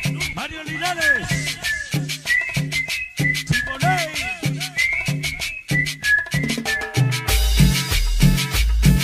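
Bright melodic whistling rides over a bouncy cumbia beat with bass and percussion, the full band swelling louder near the end.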